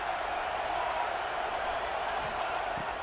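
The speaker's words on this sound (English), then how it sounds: "This crowd bringing the energy and noise early." Steady, dense roar of a stadium crowd in College Football 26, a constant wash of noise without clear peaks, with faint thumps near the end.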